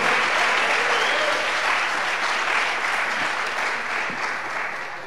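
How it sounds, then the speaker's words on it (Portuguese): A church congregation breaks into loud, sustained applause during a sermon, a dense, even roar of clapping that slowly eases toward the end. "Aplaude e glorifique o Senhor"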